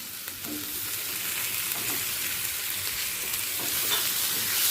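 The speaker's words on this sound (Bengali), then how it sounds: "পনির আলু পটল সব একসাথে মশলার সাথে মিশিয়ে নেব" Fried potatoes, pointed gourd and paneer being stirred together with spices in a hot pan, a steady close sizzle with soft scraping from the stirring, no one talking.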